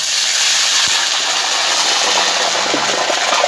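Water poured onto crispy pork cracklings frying in a pan sets off a loud, steady, close steaming sizzle that holds evenly throughout with no talking.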